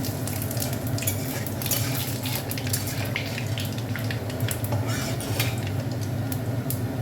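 Panch phoron and black cumin hit hot oil in a pan for a bitter gourd curry, a continuous sizzle under scraping and clinking of a utensil stirring, close and steady with no voices.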